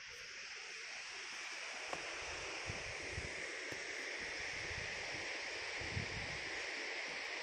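Water from the Chinnar dam flows along a canal in a continuous soft rushing wash, fairly faint and steady, with a little wind and rustle behind it.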